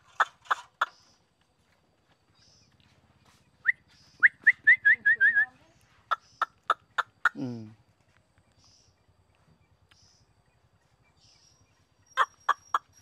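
Prize-winning hwamei (Chinese melodious laughingthrush) songbird singing up close at a village house: bursts of bright, varied whistles and rapid trills with a rising and falling slur, separated by quiet gaps and faint background noise.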